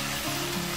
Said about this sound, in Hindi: चिकन हमारा बड़ा ज़बरदस्त सा फ्राई हो रहा है